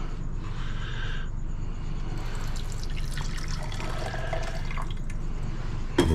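Water runs and splashes into a glass beaker as it is rinsed during gold recovery from a stock pot, a steady close trickle with shifting drips and a small clink at the end.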